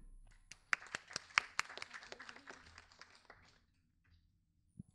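Small group clapping for a presenting team at an IIT Bombay session, sparse and uneven claps from a modest crowd, thinning out after about three seconds into quiet.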